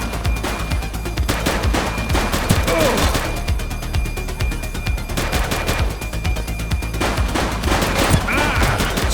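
Rapid bursts of gunfire from a suspect during a police shootout in The Precinct, sustained loud volleys of overlapping shots running nearly continuously throughout, with only brief lulls.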